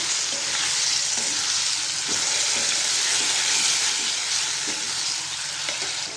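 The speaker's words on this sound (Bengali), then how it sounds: "রসুনটা দেখো ভাজা হয়ে গেছে এবার আমি ম্যারিনেট করা চিংড়ি মাছগুলো দিয়ে দিলাম" Marinated shrimp frying in garlic in oil: a loud, continuous sizzle up close, with soft rhythmic taps of a spoon stirring the pan.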